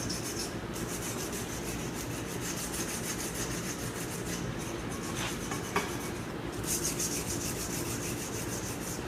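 Steady hand sanding of a workpiece in a machine shop, a continuous dry rubbing rasp with a few brighter scrape bursts, close and even in level with no talking.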